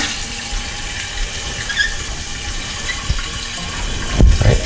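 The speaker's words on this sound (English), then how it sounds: "Let me turn the toilet on and check for leaks." A toilet tank refills with water after a flapper repair, giving a steady close hiss with a faint squeal, ending in a brief thump and gush.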